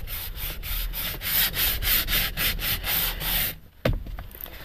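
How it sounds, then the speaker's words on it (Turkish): Sandpaper rubs excess two-part glue off a repaired leather steering wheel in quick, rhythmic back-and-forth strokes, close and steady, then stops with a brief knock. "yapıştırıcının fazla kalan pürüzlü kısımlarını zımparalayıp"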